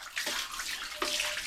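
Water splashes and pours steadily for a final rinse, a close, continuous wash of running water with two brief surges, and no voices.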